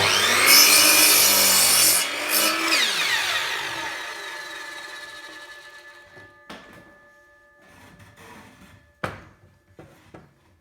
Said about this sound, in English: Then we cut off the back legs at the same angle.